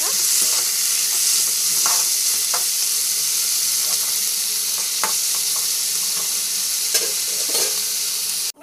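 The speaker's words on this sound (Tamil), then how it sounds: "கோல்டு ஆனியன் நல்லா வதக்கிட்டு நல்லா வதங்கணும்" Steady, close sizzling of onions sautéing in a hot pan, with occasional scrapes and clinks of a utensil stirring them, no voices.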